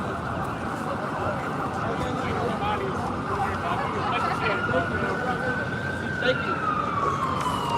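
Emergency sirens wail through dense Manhattan street traffic, a rising and falling tone sustained throughout over a constant roar of city noise, with a long upward sweep near the end.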